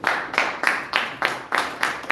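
An audience claps for a speaker coming up at a training course presentation, giving seven evenly spaced, fairly close hand claps in a steady rhythm.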